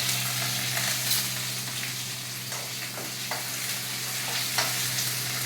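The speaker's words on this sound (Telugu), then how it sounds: "కరివేపాకు, పచ్చిమిరపకాయ, ఎర్రగడ్డలు వేసి ఫ్రై చేసుకోవాలి." Curry leaves, green chillies and onions fry in hot oil over a medium flame, giving a steady close sizzle with occasional stirring scrapes.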